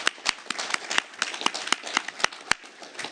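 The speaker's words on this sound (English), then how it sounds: "I think a round of applause is in order." A small group of people applaud at a city council meeting as members return to the dais in public, with sharp, irregular hand claps that are fairly close and steady for a few seconds.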